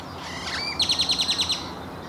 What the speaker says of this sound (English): Gray-tailed grackles, and this extends to grackles in general, are quite the polarizing bird.